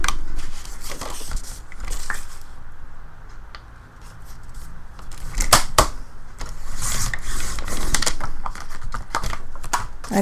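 Scissors or a cutter snipping a strip of material for a notepad cover, with short crisp cuts and rustling in uneven bursts, close and fairly loud with no talk.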